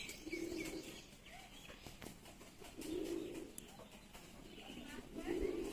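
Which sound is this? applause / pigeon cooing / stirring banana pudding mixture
pigeon cooing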